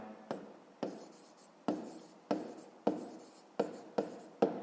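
Pen or pencil strokes of a hand writing out a fifth-grade maths solution, a steady series of about eight sharp scratching strokes, close and fairly quiet, with no talking.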